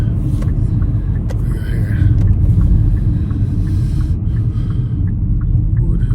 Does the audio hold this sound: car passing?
yes